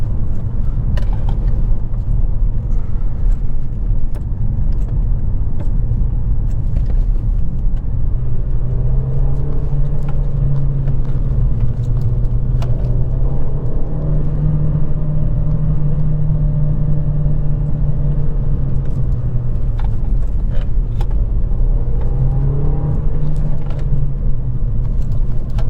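A Renault Mégane 2 RS, a 225 hp French hot hatch, is driven along the road; its engine hums and drones steadily from inside the cabin, the pitch rising and falling gently with throttle over road rumble, and no one speaks.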